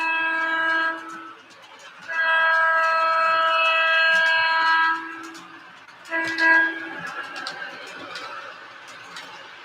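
A weathered MTH Protosound 2 three-volt model train runs under DCS command control. Its horn sounds in three loud, sustained blasts, the longest lasting about three seconds, with faint clattering and rumbling between them.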